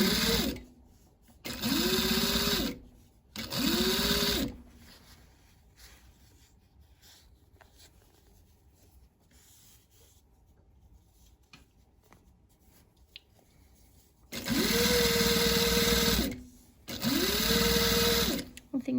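A sewing machine joins two fabric bag pieces in two pairs of sharp, rising-and-falling motor bursts at the start and the end, with a long quieter stretch of faint handling noise between them.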